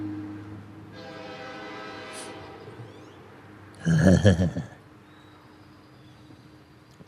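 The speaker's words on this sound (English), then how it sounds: "I'm going to wait till the train to stop," A train rolls past with a long steady horn blast, then a louder burst of clattering and rumbling as the cars go by, fading to quiet; a single spoken word is briefly heard.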